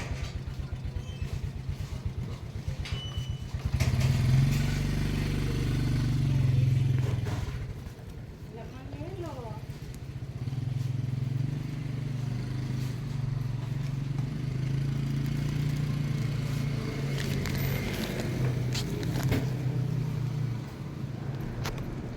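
A Suzuki Smash 115 motorcycle rides along a national highway, its engine droning steadily throughout with a swell of louder revving near the start, while someone talks over it.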